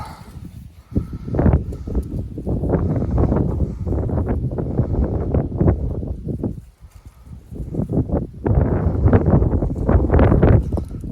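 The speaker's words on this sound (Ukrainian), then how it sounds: "Вітерок дує." Outdoor breeze buffeting the microphone in loud, gusty rumbling bursts that rise and fall over the whole stretch, with a short lull partway through before the gusts return.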